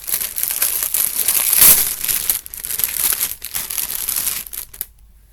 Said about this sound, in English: Not sorry for the crinkling.